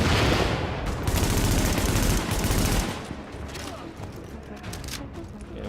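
Rapid gunfire in The Division as shots are aimed at red explosive barrels: loud, dense bursts of automatic fire with sharp cracks, heavy for the first few seconds, then continuing more sparsely at a lower level.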